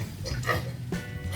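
Pigs at a farm grunt noisily in a short close burst, rough snorting calls overlapping against a steady low background.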